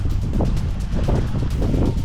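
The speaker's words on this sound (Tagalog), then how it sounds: "Pero ang hangin diri murag nag ipo-ipo" Strong, swirling wind buffets the microphone high on Mt. Pulag in bad weather, a loud continuous low roar with gusty surges and no voices.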